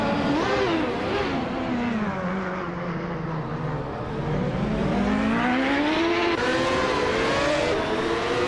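Race cars in a racing video game roar continuously, engines revving up and down through gear changes as they rush into a corner, loud and steady for the whole stretch with no talking.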